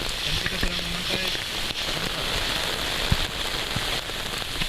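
Steady rain falls on the trail to the Latimojong summit in Sulawesi, a continuous hiss with scattered drops and a few close taps, moderately quiet throughout with no talking.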